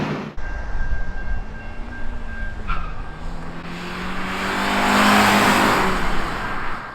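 A clean Honda Civic Si EP3 drives along, its engine a muted, steady drone under road and wind noise, rising slightly in pitch and loudness toward the middle before easing off.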